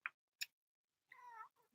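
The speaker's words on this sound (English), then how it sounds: "Everybody thinks it's a baby crying when they hear her meow." Two short clicks, then a single clear cat meow, close and fairly quiet, followed by a brief soft trailing sound.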